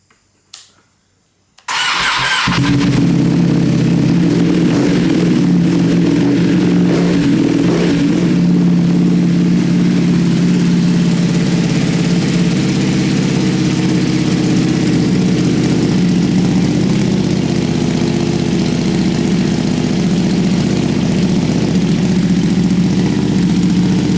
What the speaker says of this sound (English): I'll fire it up again for you